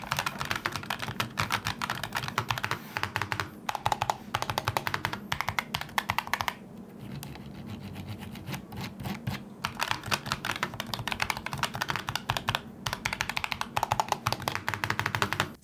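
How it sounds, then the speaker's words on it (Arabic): Fast typing on an ROG Strix Scope II mechanical keyboard gives a close, continuous stream of crisp key clicks, pausing briefly partway through before resuming. "نعمل تجربه للصوت"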